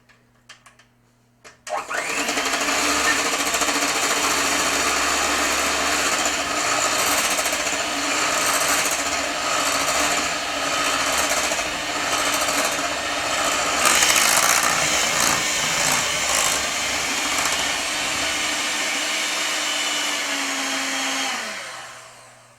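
An electric mixer beats hot milk cake batter of milk, egg and sugar, starting with a click and running as a loud, steady motor whir for about twenty seconds before winding down and stopping.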